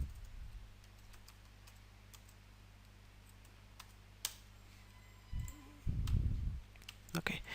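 Keys click in scattered bursts on a computer keyboard while code is typed, quiet and close, with a few isolated taps followed by denser clusters of keystrokes near the end.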